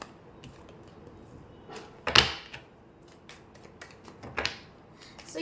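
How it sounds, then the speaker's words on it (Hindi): Tarot cards being shuffled by hand, with two brief louder riffling bursts standing out over a quiet, faintly rustling background. "मैं कार्ड शफल कर लूँ"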